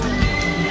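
A bay semi-heavy horse gives a brief, close whinny at a horse beauty contest in Osorhei, Bihor, a single short neigh with no talking.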